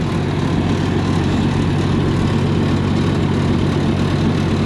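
A loud, steady old farm engine runs close by with a deep, throbbing rumble that holds even throughout, with no pauses or talk.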